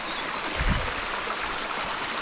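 A village river flowing steadily and close, a continuous broadband rush of water with a soft thump of low noise partway through, no voices.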